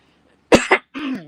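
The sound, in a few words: cough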